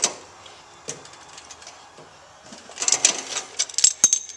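Wrench clicks and metallic taps sound close up as the skid bolts on a snowblower are loosened, a sparse burst at first and then a denser flurry near the end.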